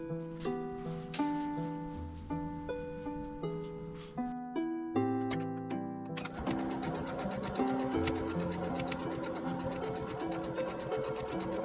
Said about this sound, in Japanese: ここまっすぐに縫っていきます。